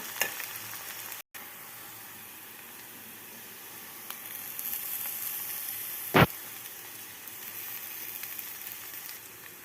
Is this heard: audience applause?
no